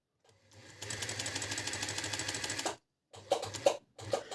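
A SilverCrest overlocker sewing machine being oiled runs with a rapid, steady mechanical whir for a couple of seconds, stops, then starts again in a few short bursts.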